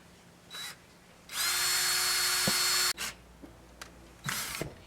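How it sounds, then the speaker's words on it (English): A power drill drives screws into the top rail of an RV slider topper during installation, with a long loud whirring burst mid-clip between short clicks and brief buzzes, close by with no speech. "now getting ready to run in the screws on the top rail"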